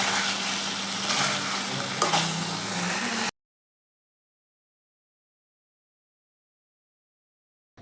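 Okra frying in a pan on a home kitchen stove gives a steady, close sizzle with faint stirring for about three seconds, then cuts abruptly to silence.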